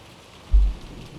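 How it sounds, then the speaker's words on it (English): A single deep rumble of thunder rolls through a steady wash of rain in a visual novel horror game, swelling briefly and fading back into the constant downpour. "Thunder echoes out."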